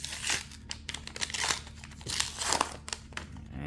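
A Flesh and Blood High Seas card pack being opened up close, with bursts of crinkling and tearing foil wrapper coming in irregular handfuls, with no talking over it.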